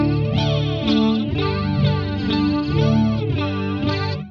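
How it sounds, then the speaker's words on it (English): Electric guitar played through a Fractal Audio FM3 with a flanger effect, loud sustained strummed chords with a sweeping, whooshing comb-filter swirl that rises and falls repeatedly. "So we have the flanger on for the mistress scene here."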